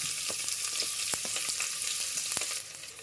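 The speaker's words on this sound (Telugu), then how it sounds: "ఇప్పుడు ఇందులోకి మీడియం సైజు ఒక 2 ఉల్లిగడ్డలు సన్నగా కట్ చేసి వేసుకోండి" Thinly sliced onions frying in hot oil with whole garam masala spices for a mutton curry, a dense continuous sizzle with occasional sharp crackles and pops, close and steady with no talking.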